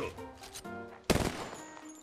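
Gunfire aimed at a cargo bot in the battle-royale video game Apex Legends: a sudden loud burst of rapid automatic shots starts about halfway through, after a stretch of game music and ambience.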